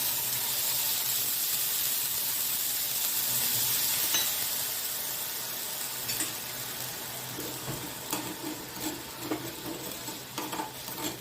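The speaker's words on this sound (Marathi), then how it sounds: "त्याच्याकरता मी साखर जी घेतली होती पाऊण वाटी, ती कढईत घालतेय" Sugar and a little water heat in a kadai for syrup, giving a steady close sizzling hiss broken by scattered stirring scrapes and clicks.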